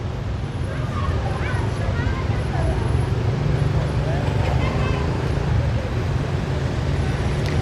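Dense nighttime city traffic rumbles past near a bridge linking two shopping malls in Vientiane, Laos, a steady low engine drone with distant horns and a murmur of crowd voices.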